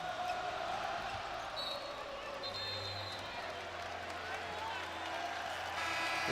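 A packed college basketball arena at an Arkansas Razorbacks home game against Missouri, the crowd roaring steadily throughout with a broadcast commentator talking over the noise and a ball bouncing faintly.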